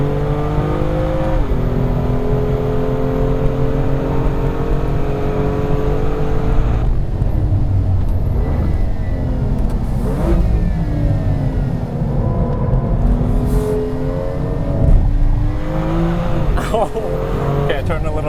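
A 2016 BMW M2 with a manual gearbox accelerates hard on a track, its engine revving up through rising and falling pitch sweeps, loud and continuous throughout, with a driver talking over it.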